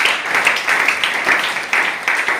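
A church congregation applauds with dense, sustained clapping that fills the room at a steady, fairly loud level, the claps swelling slightly in rhythmic waves.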